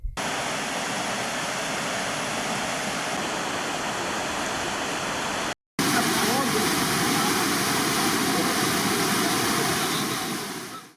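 Floodwater surges through the Kakkathodu stream at Cherpulassery after heavy rain, a loud, unbroken roar of rushing water with a brief cut midway.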